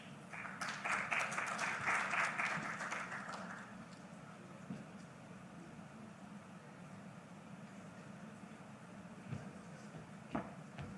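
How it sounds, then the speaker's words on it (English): Applause from an audience at an all-Africa anesthesia congress in Rwanda, a burst of clapping for about three seconds that fades into quiet room murmur with a few scattered claps afterward. "Again, a big applause to Dr. Mpoki"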